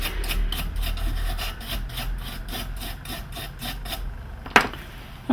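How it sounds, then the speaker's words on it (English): Excess flux is scrubbed off a Philips plasma TV circuit board with alcohol, a steady rhythmic rasping brush stroke repeated about a dozen times, close and fairly loud, ending with a sharp click. "Clean up with some alcohol. Get rid of the excess flux."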